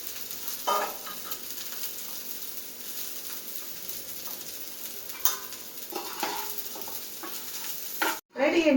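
Leftover rice being stirred in a pan for chitrannam, a steady scraping and light sizzle running throughout with a few sharper utensil knocks, ending in a brief pause and clatter.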